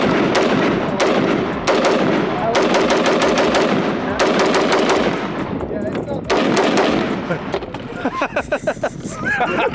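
A DSA FAL rifle firing at a shooting range: loud, sharp, close gunshots come in rapid clusters with brief gaps between them, and people talk in between.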